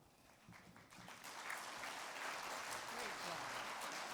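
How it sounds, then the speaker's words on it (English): Sustained audience applause at a nighttime awards ceremony, a broad wash of many hands clapping that swells and holds steady with some voices mixed in. "Another round of applause."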